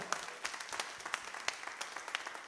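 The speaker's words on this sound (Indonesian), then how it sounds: "Tepuk tangan yang paling meriah" Applause from a congregation at a church service, a steady patter of many hands clapping with scattered sharper claps, moderately loud and continuous.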